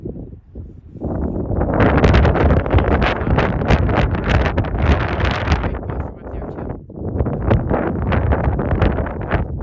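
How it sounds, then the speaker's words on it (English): Strong mountain wind on the Appalachian Trail buffets the microphone in loud, rough gusts that roar continuously and dip briefly before surging again. "It's windy, but it's not cold."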